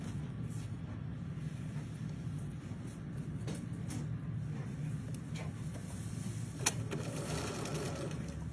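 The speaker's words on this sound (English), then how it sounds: "So we'll sew this row." A sewing machine stitches a row of a quilt block, a steady mechanical whirring and rapid needle chatter running continuously at moderate volume, with a few faint clicks and taps over it.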